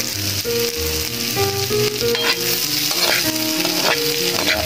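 Onions sizzling in a pan for an upo and pork dish crackle loudly and constantly while a utensil stirs them in repeated scrapes, with music playing underneath.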